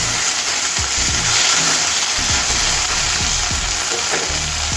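Rice mixture with coarsely pounded pepper frying in a pan, giving a steady loud sizzle with occasional stirring scrapes throughout.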